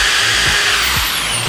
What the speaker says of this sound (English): I'm reaching for the drill right now without moving these things